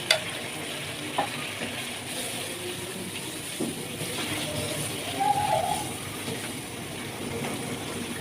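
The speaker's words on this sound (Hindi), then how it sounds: "ये देखिए मसाला हमारा बड़े अच्छे तरीके से भुन रहा है, ऑयल ऊपर आ गया है" Masala for a malai seekh kebab white gravy sizzling and frying steadily in oil in a pan, a soft continuous crackle at moderate level with a few small pops and stirring clinks.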